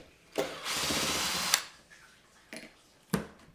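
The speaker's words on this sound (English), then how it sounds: "You can use a simple screwdriver, but power tools will save you time." Power drill backing screws out of the back panel of a Fender Blues Deluxe Reissue tube amp, a short whirring burst followed by faint clicks and small knocks, close and fairly quiet.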